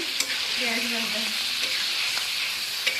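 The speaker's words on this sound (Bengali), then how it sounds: "পেঁয়াজ রসুন ভাজা" Onion and garlic fry in a pan with a loud, steady, close-up sizzle and hiss. Stirring scrapes run underneath, and a faint tonal murmur comes through briefly near the start.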